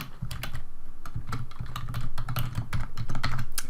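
Computer keyboard keys clatter in quick, steady typing of a MATLAB command, close and clear, with no talking.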